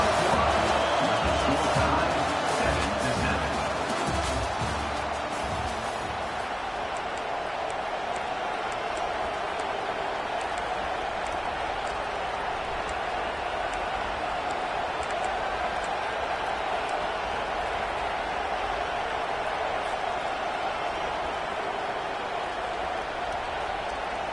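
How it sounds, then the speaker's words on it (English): A stadium crowd roars continuously in a Madden American football video game, urging a fourth-down stop; the dense, loud wall of noise swells slightly at the start and then holds steady. "This crowd busting the decibel meter and trying to will a 4th down stop"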